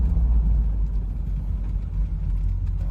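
A 1972 Chevrolet Corvette with power brakes driven during a brake test gives a steady, close, loud low engine rumble from inside the car, with no voices over it.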